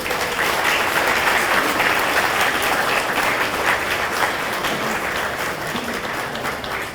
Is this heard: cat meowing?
no